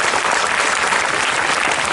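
Audience applause for schoolgirls at a public inauguration of a railway crossing on a ring road, a dense, steady wash of clapping filling the whole moment at close range.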